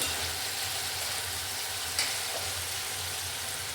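Tomato and onion with masala sizzle steadily in a pan for pav bhaji, a constant bright fry hiss with one faint stir or clink partway through and no talking.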